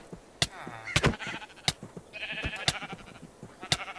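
Sheep bleating in the Minecraft video game, several short bleats scattered among thunks and clicks of gameplay, fairly close and loud.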